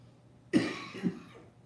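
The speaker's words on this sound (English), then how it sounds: "I haven't coughed all day till I got on here" One short cough followed by a softer second cough from a person with a virus illness, close by, against a quiet background hum.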